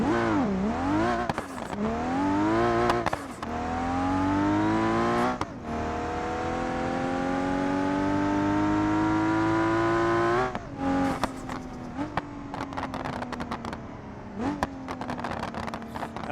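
A nitrous-boosted, Barra-swapped wagon in BeamNG.drive revs hard and climbs through gears, with a loud, sustained engine whine and shifts rising in pitch, broken by brief crackles and tire squeal, no talk.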